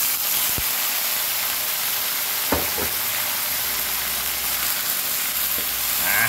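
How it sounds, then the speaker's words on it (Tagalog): Chicken feet fry with garlic in hot oil in a pan, giving a steady, loud broadband sizzle across the whole stretch, broken by a few faint clinks near the middle. "Ilagay ko na yung chicken feet mga konyot"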